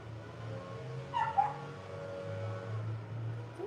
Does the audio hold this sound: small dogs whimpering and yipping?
yes